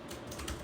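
Steady computer keyboard typing while code is written in the Kotlin language, a quick run of soft keystrokes heard alone at low volume.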